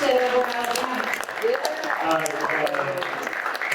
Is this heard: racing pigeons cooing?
no